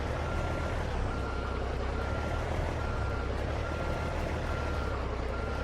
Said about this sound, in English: Might have to actually shift into the second reverse on this one today.